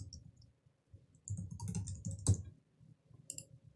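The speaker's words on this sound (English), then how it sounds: "And then I'll type in my email address right here." Someone types an email address on a computer keyboard in short bursts of close, crisp key clicks separated by brief pauses.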